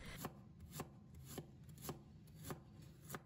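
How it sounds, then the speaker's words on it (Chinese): A knife slices peeled ginger into thin pieces on a cutting board, giving quiet, evenly spaced chops about every half second with nobody talking. "接着再准备一块去了皮的生姜，切成薄片"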